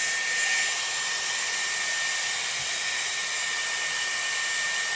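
A Dyson Airwrap round-brush hot-air styler runs steadily on medium heat, giving a loud, continuous close-up airflow whoosh with a faint high whine that holds unbroken with no talk.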